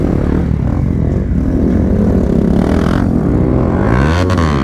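Several motorcycles, among them an RS 200 and a Pulsar N250, ride off together at a riders' meetup. The engines rumble loud and steady, with one revving up toward the end.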